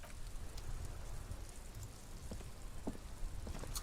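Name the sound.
rain in the video game Disco Elysium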